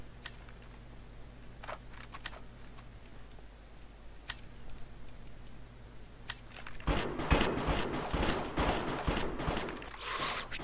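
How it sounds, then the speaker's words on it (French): Raging Bull revolver fire in the Minecraft game Hypixel Cops and Crims: a few scattered sharp ticks at first, then a dense, louder cluster of gunshot cracks and impacts in the second half, with no voice. "On recharge notre Ragging Bull. Boom, headshot, MLG."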